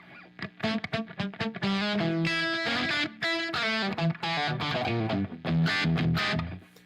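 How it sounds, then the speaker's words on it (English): Electric guitar run through a tight slapback echo from an Echoplex EP3, a quick picked melodic line with distorted tone and short repeats following each note, loud and close with no talking. "I just left it on, a little tight echo, just like I'm doing here"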